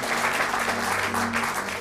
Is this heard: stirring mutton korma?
no